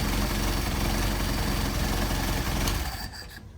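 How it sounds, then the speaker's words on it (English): A carburetted engine idles at a low idle speed, a steady close rumble that holds constant before dropping off near the end. "I may have the idle set a little low, but that's just to demonstrate how nicely the carburetors operate"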